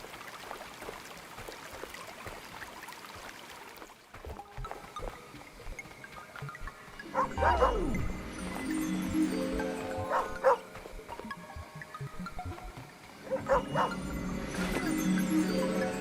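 Dog barking in the video game Sword & Sworcery, several short yips and barks in two bursts over a quiet ambient backdrop, fairly close and clear.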